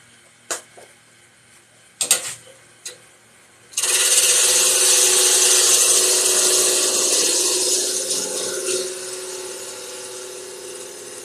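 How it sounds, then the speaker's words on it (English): Half-inch spindle gouge cutting a wooden lidded box on a lathe, starting with a few sharp taps and knocks, then a loud, steady scraping hiss of the cut that holds for several seconds and slowly eases off. "I'm going to go to a 1/2-inch spindle gouge."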